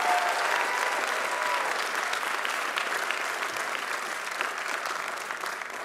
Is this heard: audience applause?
yes